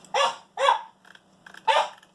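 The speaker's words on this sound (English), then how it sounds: "my dogs are barking" Dogs bark in short sharp bursts, three loud barks with a softer yip between them, close by over a low steady hum and with no one talking.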